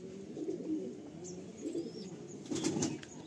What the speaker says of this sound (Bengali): খুব সুন্দর একটা পায়রা দেখুন